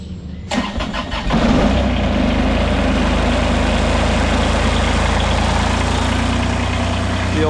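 A farm scraper engine cranks and fires up, then settles into a steady, loud, low idle that runs alone to the end.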